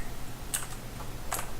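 Clicky computer keyboard typing during a game, a few sharp, separate key clicks over a faint background hum, with no talk.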